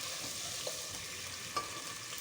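Steady sizzling as rice is added to a pot for Afghani Kabuli pulao, with a couple of soft scraping stirs, close and moderately quiet, no voices.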